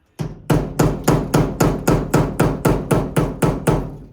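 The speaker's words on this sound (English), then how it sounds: "Got the hammer and I started tapping on this because it was all locked up, seized up" Steady, evenly spaced hammer strikes on a seized metal part of a 1961 split-window bus, about a dozen sharp metallic taps in a regular rhythm, close and loud, with no talking.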